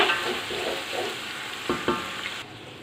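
Three small chopped tomatoes frying with mutton in a pot for chana pulao, a close steady sizzle broken by rhythmic stirring scrapes and a couple of sharper knocks from the spoon, with no voices.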